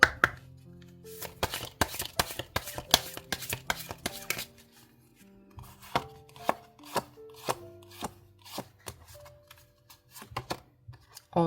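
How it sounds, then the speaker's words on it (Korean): Oracle cards being shuffled and drawn by hand, a string of crisp slaps and flicks with short pauses between them, close and clear, with no talk. "오라클 카드로 2장 볼게요."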